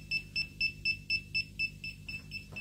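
A Poundland Vido wireless tracker gives a run of about ten short, evenly spaced electronic beeps while connecting, clear and close at first and growing softer toward the end, with no talking over it.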